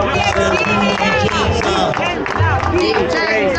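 Crowd applauding at the Alpini parade gathering in Italy, loud continuous clapping mixed with cheering voices and shouts, dense and close throughout.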